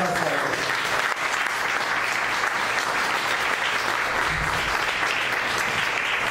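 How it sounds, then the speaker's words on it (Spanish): A church congregation applauds, with steady dense clapping from a crowd that carries on for several seconds without a break, loud and enveloping. "Dale una ofrenda de palmas a Dios."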